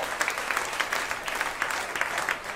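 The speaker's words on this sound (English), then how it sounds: "Round of applause." A comedy club audience breaks into applause, a steady wash of many hands clapping at moderate volume filling the short moment without voices standing out.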